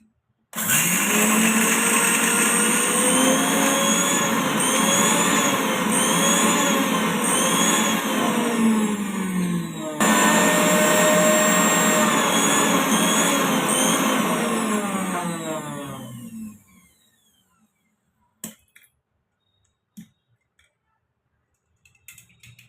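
An electric mixer grinder whirs loudly, grinding niger seeds with salt into chutney powder, running in two steady bursts with a short break between, then stopping and leaving a few faint clicks and knocks.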